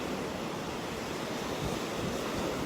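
Ocean waves on a beach during a morning walk, a steady broad wash of surf noise with slight wind, continuous and fairly faint, with no voices.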